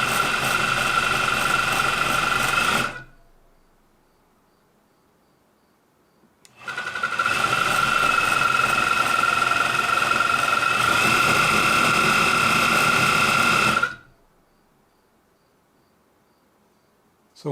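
An industrial sewing machine runs in two steady, loud bursts with a high whining, buzzing drone, stopping into near silence between runs, the second run lasting about seven seconds.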